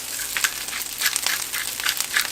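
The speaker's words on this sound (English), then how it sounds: "Let it sizzle a bit." Fried rice sizzles steadily in a pan, a bright crackling hiss with small pops scattered throughout, close and fairly loud.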